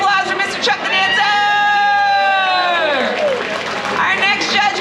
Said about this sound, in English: Big round of applause for Mr. Chuck the Dancer!